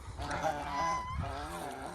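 A flock of farm geese by an irrigation canal honk loudly and continuously at close range, their calls overlapping in a dense chorus with no talk.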